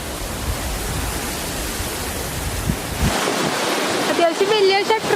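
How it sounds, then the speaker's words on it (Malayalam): Water rushes through an opened shutter at Perumannu Chira in Kechery as a loud, steady roar that changes texture partway through, and a voice is heard near the end. "ഇവിടെ പെരുമണ്ണ് ചിറയിൽ ഇപ്പം ഷട്ടറൊക്കെ തുറന്ന് വെള്ളം നല്ല ഭംഗിയിൽ ഒഴുകുന്നൊരു ടൈമാണ്"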